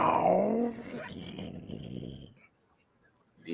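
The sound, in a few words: added growl sound effect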